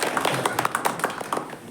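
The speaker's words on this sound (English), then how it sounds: "Can we give him a huge round of applause?" A live audience claps for a volunteer stepping onto the stage at a Toastmasters-style table topics session, giving a brief burst of scattered, fairly close handclaps with no speech over it.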